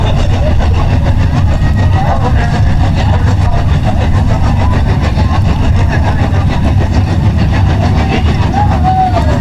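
Hobby Stock race cars roaring through a heat race on a dirt oval, a dense, steady engine drone holding loud and unbroken throughout with no clear individual passes.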